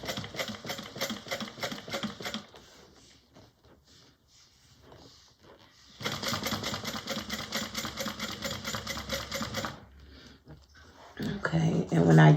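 A sewing machine stitches a handmade bag in two long runs of fast, even, rattling needle strokes, close and clear, with a short backstitch burst and quiet pauses where someone talks between runs.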